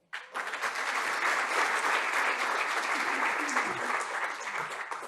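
A conference audience at a Diario Financiero sustainable infrastructure panel applauds the moderator, dense clapping starting abruptly and holding steady for several seconds before easing slightly at the end.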